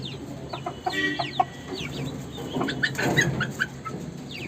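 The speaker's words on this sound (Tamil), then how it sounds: "பார்த்திடலாங்க நம்ம வெள்ளைக்கோழி பாருங்கள்" Country chickens cluck in a farmyard, a steady run of short clucks and squawks at moderate distance with no talk over them.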